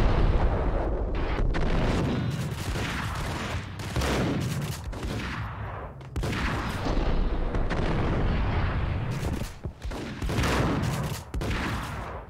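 Heavy gunfire and explosive blasts in the video game Max Payne come in repeated bursts, loud and booming, with brief lulls between volleys.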